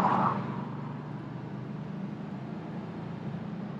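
Steady engine drone of a 1950 Mercury four-door sedan pulling in second gear, a low rumble held close and constant for the whole stretch with no talk over it.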